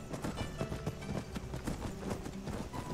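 Horse hooves clip-clop in a steady fast rhythm in Skyrim, dense and continuous at moderate volume with no voices.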